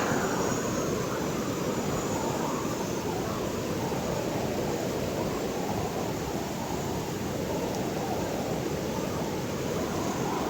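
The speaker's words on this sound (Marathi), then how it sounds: "पाण्याचा आवाज बघा" A constant heavy roar of rushing floodwater during torrential Konkan monsoon rain fills the whole stretch, loud and unbroken, with no talking over it.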